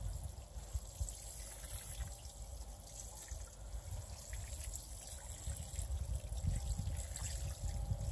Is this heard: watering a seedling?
yes